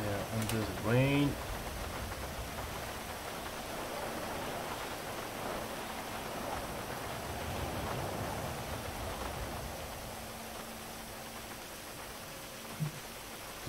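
Steady hiss of falling rain in a driving video game at Minami fills the scene, with a short electronic chirp at the start and a faint thump near the end.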